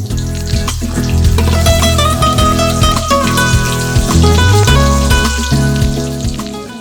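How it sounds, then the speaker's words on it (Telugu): Stuffed eggplants fry in plenty of hot oil in a pan with a steady, crackling sizzle. Clinking and scraping from the cookware sound over it, and a low hum runs underneath. "నూనె వేడెక్కాక ఈ వంకాయల్ని ఒక్కొక్కటిగా వేసి వేయించుకోవాలి."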